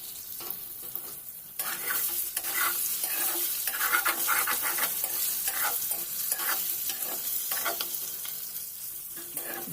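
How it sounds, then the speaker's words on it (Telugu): Potatoes fry in hot oil with a steady, bright sizzle that swells as the pieces are stirred, close and continuous with no talking. "శుభ్రంగా ఫ్రై చేసుకోవాలి"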